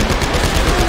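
Rifle fire in the sci-fi shooter Dead Space 3, a dense, steady burst of rapid shots filling the whole moment at close range, loud and continuous with no talk over it.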